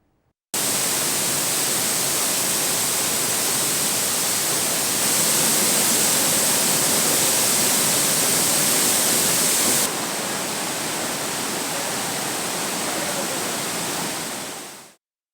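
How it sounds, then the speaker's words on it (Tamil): Courtallam falls in Tenkasi district, swollen by heavy rain, roar with a dense, unbroken wash of rushing water that stays loud and steady throughout. "தென்காசி மாவட்டத்தில் பெய்த கனமழை காரணமாக குற்றால அருவிகளில் பேரிரைச்சலுடன் தண்ணீர் கொட்டுகிறது."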